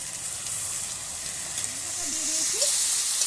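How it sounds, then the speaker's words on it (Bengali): Onion and spices frying in mustard oil for a duck curry, a soft, steady sizzle and hiss with faint stirring and a few brief scrapes, fairly quiet and continuous. "এবার এটা খুব ভালোভাবে ভেজে নিতে হবে, আরেকটু কষিয়ে নেব"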